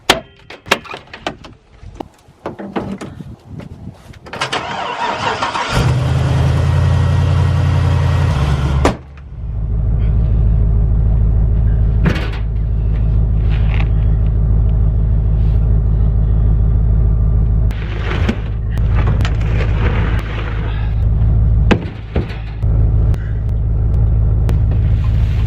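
A 2001 Chevrolet Silverado with a 6-liter engine, after clunks and rattles, cranks and starts, then settles into a loud, steady, close idle rumble that runs on to the end.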